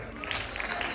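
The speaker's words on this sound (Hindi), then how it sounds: "एक बार जोरदार तालियां राजवीर की यार" Applause from a live open mic audience for performer Rajveer, a dense wash of clapping and crowd noise filling the whole second at steady loudness, with the claps blurring into one continuous roar.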